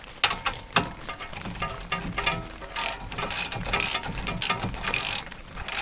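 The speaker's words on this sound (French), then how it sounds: "Donc là c'est une clé de 19, c'est ça." A 19 mm wrench ratcheting on the steering ball joint of a pickup truck's front end, giving repeated close mechanical clicks and metallic clatter in irregular bursts, with no speech.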